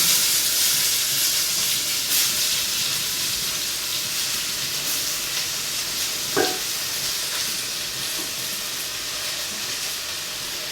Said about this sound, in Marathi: कांदा परतला. आता हा चिरलेला पालक आपण तिथे टाकणार.